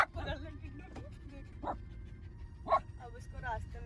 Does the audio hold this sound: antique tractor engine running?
no